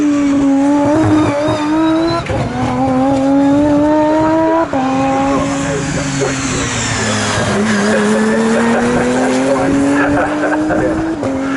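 An Aston Martin Vulcan race car in camouflage livery laps the track at Snetterton during GT Challenge qualifying. Its loud engine whines up through the gears with a brief tyre squeal, and a voice talks over it.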